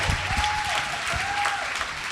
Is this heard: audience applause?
yes